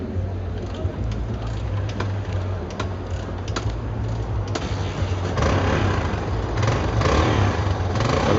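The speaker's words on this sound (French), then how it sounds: "Alors il y a un bruit de moto," A motorcycle engine rumbles low and steady in the background, swelling a little louder toward the end, with scattered clicks and taps over it.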